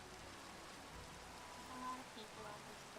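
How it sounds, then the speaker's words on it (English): Steady rain falls outside during a quiet night, a soft continuous wash with faint scattered drops, moderately quiet and unbroken for the whole stretch. "Maybe that'll make the rain go away."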